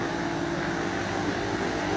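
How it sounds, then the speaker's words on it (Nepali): A helicopter approaches from the distance near an airport runway, its steady rotor and engine drone holding continuously at a fairly even level throughout, with no voices. "उताबाट हेलिकप्टर आउँदैछ"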